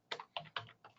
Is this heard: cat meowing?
no